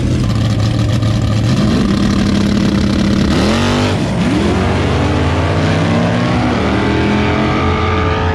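A naturally aspirated 363 drag racing car on a big small tire screams down the track, its engine rising through gears with loud, sustained revving that shifts pitch as it pulls away.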